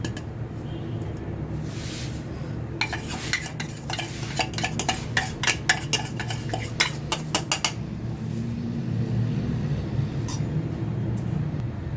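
Roasted spices for a special masala tipped into a bowl, a quick run of light clinks and taps of a spoon against the dish over a low steady kitchen hum, then quieter handling.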